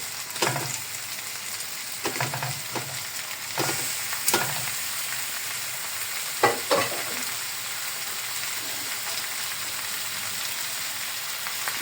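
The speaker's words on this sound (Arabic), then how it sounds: "هننزل باللحمه بتاعتنا تاخد لون او نشوحها مع البصلايه بس" Lamb meat browns and sautés with onion in a single pot for Saudi kabsa, a steady loud sizzle running throughout, broken by occasional scraping strokes of a stirring spoon.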